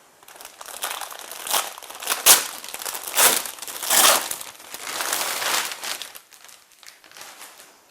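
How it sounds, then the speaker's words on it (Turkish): A sterile disposable drape package is opened by hand, giving loud, close crinkling and crackling of plastic and paper in several surging bursts with no talking. "Şimdi gelelim hep birlikte steril bohçamızı açalım."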